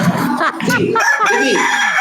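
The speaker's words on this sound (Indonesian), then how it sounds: "Ayam ini nggak bisa diajak kompromi." A chicken rooster crows loudly and close by, mixed with clucking, in a busy, continuous burst of calls.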